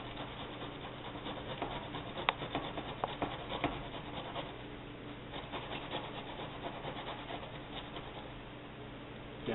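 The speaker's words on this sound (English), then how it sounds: "I will take the fresh tomato and grate it like this" A fresh tomato half is grated by hand for chicken and shellfish paella, making a steady, close rasping scrape with small irregular catches and no talk.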